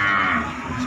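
A single cow lows at the Muntilan cattle market, where Simmental, Limousin and PO cattle are sold; one drawn-out, fairly close moo fills the short moment with no talk.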